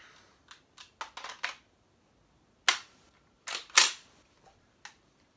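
Umarex MP40 CO2 airgun firing in short, sharp bursts of snappy pops separated by silent gaps, fairly close and crisp with no talking.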